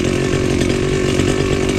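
A grass cutter runs steadily in a farm field, its engine droning loud and close without a break and no voices over it.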